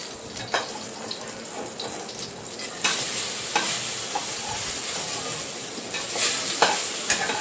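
Brinjal slices frying in hot oil and being flipped to the other side, a steady close sizzle with occasional scraping and clatter from the turning, no talk.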